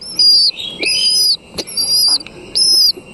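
Pigeon chicks in a loft call to be fed, giving loud, close, high whistling cries in several sustained bursts separated by brief gaps.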